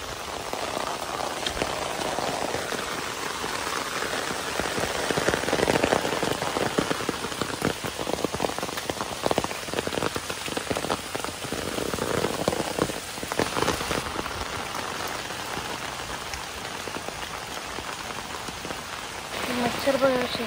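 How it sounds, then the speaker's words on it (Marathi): Steady rain falls on grass and open ground outdoors, a dense continuous hiss of drops that swells and eases over about twenty seconds, with faint voices now and then. "आणि आता पाऊस लागलाय"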